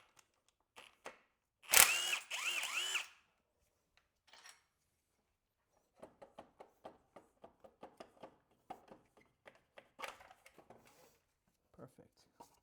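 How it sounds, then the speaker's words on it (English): A power tool spins out the last alternator bolt in the engine bay of a BMW E36 M3, one loud burst of about a second followed by faint clicks and clinks of handling. "I'm going to go ahead and remove the last alternator bolt."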